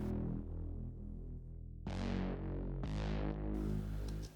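Mo's Favorite, a synth bass preset from a Mo Fogg pack, played as sustained chords rather than a bass line. The tone is thick and loud, with bright swells at each chord change and no voices.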